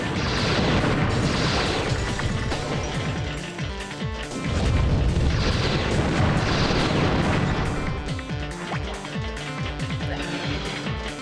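Bombs explode in rapid succession during a Custom Robo video game battle: a loud, dense barrage of booms and crashes that runs continuously and unbroken, with no talk.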